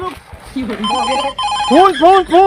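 A telephone rings with a repeating warbling electronic tone that grows louder and more regular toward the end, with a voice speaking over the early part.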